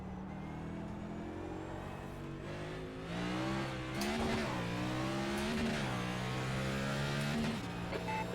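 NASCAR race car exiting the pits at Sonoma Raceway in the iRacing simulator, its engine droning and rising in pitch under a steady, fairly loud roar with shifting harmonics and no talk.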